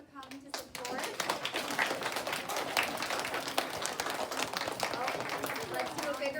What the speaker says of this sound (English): another big round of applause for our board recipients